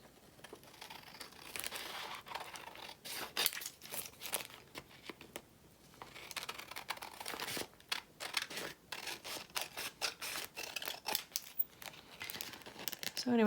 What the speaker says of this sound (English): Now the trick is to cut this without cutting the bag.